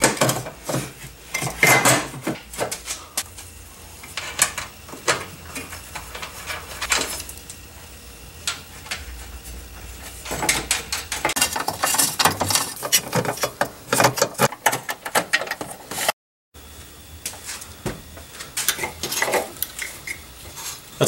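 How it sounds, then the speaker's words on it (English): A car engine torque mount plate is slid back over its studs on a 2010 GMC Acadia, producing close, irregular metallic clanks, scrapes and taps in bursts, with a brief silent gap partway through and no talking. "Let's reinstall the mounting plate. Remember, needs to slide over these two studs here"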